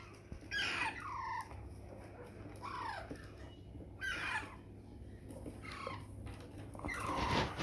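Harsh Pakistani parakeet squawks burst out in short, repeated calls every second or two over a steady low hum, fairly faint and from a few birds.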